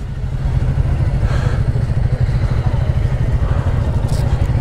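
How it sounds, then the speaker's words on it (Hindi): A Royal Enfield motorcycle engine idles after a cold start at a guest house on a Ladakh ride, a loud, close, steady low thumping rumble that runs without a break. "बाइक का कोल्ड स्टार्ट हो गया"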